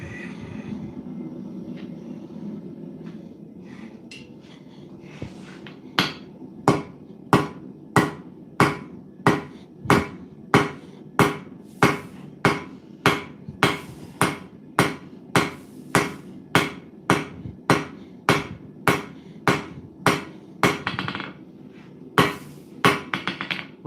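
A blacksmith's hammer strikes hot metal at the forge in a steady run of about thirty sharp, ringing blows, close and loud, after a few seconds of low forge roar.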